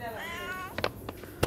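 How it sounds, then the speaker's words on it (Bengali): A cat meows once in a drawn-out, wavering call, close and clear, followed by a few sharp knocks and clatters; voices talk faintly in the room. "বিড়াল আছে"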